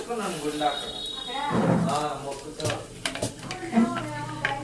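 Fenugreek and kalonji seeds sizzling in hot oil while making a homemade hair oil, a steady crackle that swells briefly, with someone talking over it.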